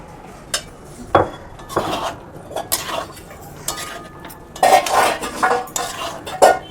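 Young jackfruit being stir-fried with a cooked spice paste in a pan, with a series of loud, close metallic scrapes and clanks of a spatula against the pan in an irregular rhythm over a faint sizzle.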